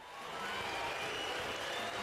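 A crowd roars in a Dragon Quest XI game scene, a steady, dense wash of cheering and applause-like noise holding at an even level for a couple of seconds.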